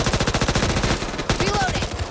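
Rapid automatic gunfire rattles loudly in the shooter game Back 4 Blood, a dense fast stream of shots over about two seconds with a brief gap near the middle and a faint voice buried underneath.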